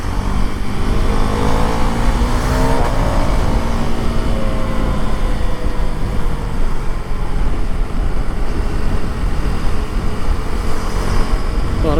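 A Husqvarna Svartpilen 401 single-cylinder scrambler motorcycle is ridden through traffic, its engine note rising and falling as it revs, under constant wind rush and road noise.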